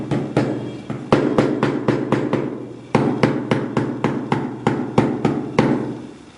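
Repeated sharp slag hammer strikes on hardened resin, distressing it, a steady series of close, loud knocks in quick bursts with short pauses between groups.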